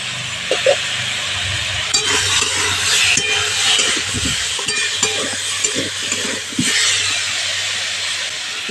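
Vegetables with green chillies fry in a pan as turmeric goes in, a loud continuous hiss and sizzle under occasional scraping stirs and light knocks, no speech.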